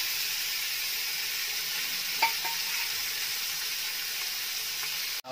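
Fish fries in a pan of oil with a steady, dense sizzle from start to finish, broken by a brief stirring scrape midway.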